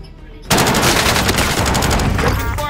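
Sustained automatic gunfire in the video game Warzone bursts in loud and close after a quiet half-second, then rattles on without a break.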